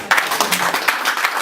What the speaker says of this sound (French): Acclamons très fort la parole.